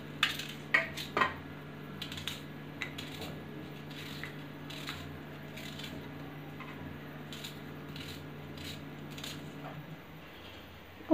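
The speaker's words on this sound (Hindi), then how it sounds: "तो बस मैं यहाँ पे 1 प्याज कट कर लूँगी" A knife chopping an onion on a board for a black chickpea curry, a few sharp close taps early, then soft faint cuts over a steady low hum.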